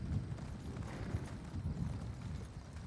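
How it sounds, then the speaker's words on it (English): Horse galloping in the video game Elder Scrolls Online, a continuous fast thudding of hooves in a low rumbling rhythm at moderate volume, without speech. "whichever way you look, the horse goes."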